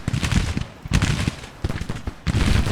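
Battle in the Civil War strategy game Grand Tactician: repeated sharp gunshot and cannon cracks, irregular volleys popping near and far in quick succession with a few heavier booms.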